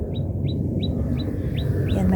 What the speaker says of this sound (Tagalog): May ibon. May ibon dyan.